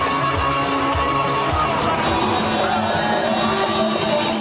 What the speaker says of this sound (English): The Bhutto bus inches its way through the crowd on its 20-kilometre journey to her home.